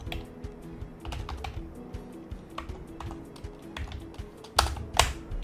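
Computer keyboard typing in a steady patter of light, quick key clicks, close and moderately quiet over a faint background hum, with a couple of louder keystrokes near the end.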